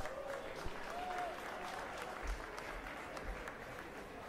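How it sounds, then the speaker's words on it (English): A crowd at a political campaign announcement applauds with a soft, steady wash of clapping heard from a distance, with a few thuds and faint voices underneath. "round of applause for that"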